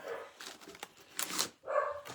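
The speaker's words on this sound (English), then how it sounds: "I don't know what the dogs are going off about" Dogs barking somewhere nearby in a series of uneven yips and barks, moderately loud and heard without talk.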